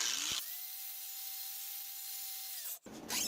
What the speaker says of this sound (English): First I'm going to use a 40 grit flap disc to get any of the rust or scale off.